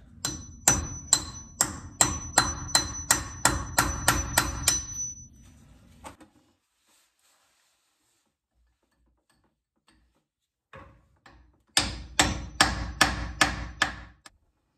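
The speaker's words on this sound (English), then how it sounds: "So with a sharp chisel, see if we can get this thing loose." A sharp chisel hammered against a gear unit to break it loose: a rapid run of about a dozen sharp metallic blows, a quiet pause with a few faint knocks, then another fast burst of strikes, close and loud.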